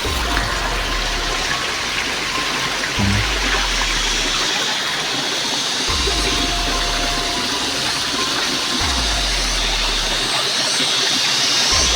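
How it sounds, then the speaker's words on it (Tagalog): Water from a small waterfall fed by little rivers roars in a steady, loud, broadband rush, with muffled low thumps recurring every few seconds beneath it. "Isa palang falls pala itong pinagmumulan ng tubig dito, no?"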